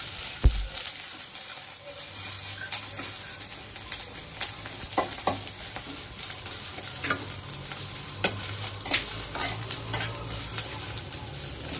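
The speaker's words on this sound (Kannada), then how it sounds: "ಹಸಿಮೆಣಸಿನಕಾಯಿ ಎಣ್ಣೆ ಹಾಕಿ ಹುರಿತಾ ಇದ್ದೀನಿ" Green chillies fry in hot oil for a chilli chicken dish, a constant close sizzle broken by frequent spoon stirs and pan clinks, with no speech.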